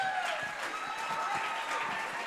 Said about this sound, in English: that's my cheering crew in the back